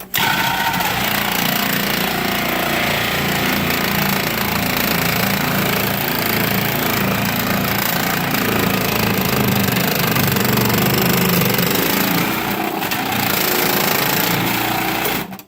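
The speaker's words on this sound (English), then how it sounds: "I put it in my food processor. And it's on the grating thing." A food processor fitted with a grating disc shreds bar soap for homemade laundry soap, giving a loud, steady motor drone with a rough grinding rattle that runs unbroken for about fifteen seconds.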